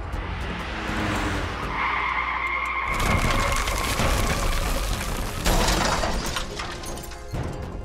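A car skids and drifts toward a bridge in a sudden road incident, with a loud, sustained tire squeal rising over road and engine noise for several seconds and no talking.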